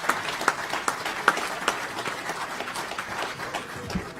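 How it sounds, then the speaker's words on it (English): Scattered audience clapping for panel speakers at a mining convention session on electric vehicles and energy storage, a thin, moderately close round of applause with distinct individual claps. "I want everybody to give a round of applause for these gentlemen up here"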